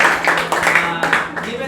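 Applause from an audience at a school debate program sounds as a brief, dense burst of clapping from a room full of people.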